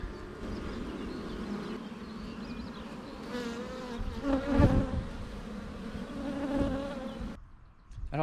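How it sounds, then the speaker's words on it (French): Queen honeybee piping inside a hive, a sustained buzzing hum of many bees with a brief, louder tonal toot rising near the middle and fading toward the end. "ça c'est le chant de la reine"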